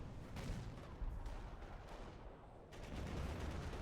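An on-map howitzer fires repeatedly in a Company of Heroes mod battle, dull heavy booms and scattered gunfire blending into a dense, rumbling backdrop of distant combat, no talk.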